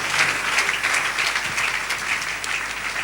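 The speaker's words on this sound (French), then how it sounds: "Est-ce qu'on peut acclamer très fort le Seigneur?" A church congregation applauds the Lord in a steady, dense burst of clapping that fills the room evenly from start to finish with no voices standing out.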